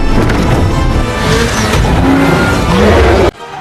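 Race car engine roaring loud and close at full speed in a futuristic film race, tires squealing and skidding under the sustained engine noise before it cuts off abruptly.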